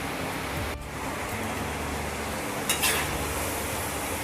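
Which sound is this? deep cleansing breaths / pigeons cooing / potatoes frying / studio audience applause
potatoes frying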